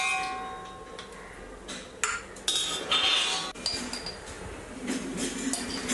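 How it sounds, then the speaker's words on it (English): A perforated metal ladle scrapes and clinks against a pan while lifting out fried red chillies and tamarind, a few close, irregular metallic taps and scrapes over faint oil sizzle. "remove the chillies and tamarind with a perforated ladle"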